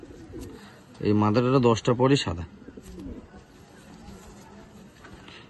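A top-class pigeon with white beak and feet coos in a short, loud burst of several rolling notes, close by, while someone speaks nearby before and after.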